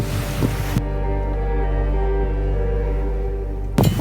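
Strong wind at sea around a sailboat arriving in port, a loud continuous roar and rush with a low rumble, steady throughout with heavier gusts at the start and end.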